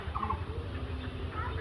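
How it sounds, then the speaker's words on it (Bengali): A mother Muscovy duck calling in a village, short nasal gobbling bursts near the start and end over a low rumbling background. "এটা চীনা হাঁসের মা"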